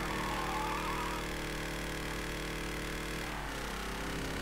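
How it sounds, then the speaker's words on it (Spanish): Motorcycle engine from the game Mafia III, a steady continuous drone with a brief dip in pitch partway through, fairly loud and alone without speech. "tiene una moto, suena como una motocicleta"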